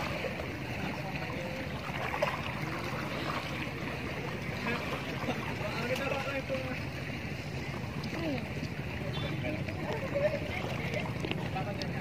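Sea waves left by a passing ship wash along the west coast of Belitung at sunset, a continuous moderate rush of water and wind with no clear breaks, and speech mixed in.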